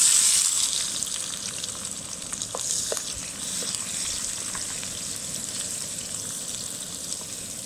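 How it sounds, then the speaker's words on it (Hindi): Onions frying in hot oil for a village-style aloo gobi curry, giving a steady, close sizzle with no one talking over it. "प्याज को थोड़ा सा भून लेंगे जब तक इसका रंग थोड़ा सा सुनहरी नहीं हो जाता"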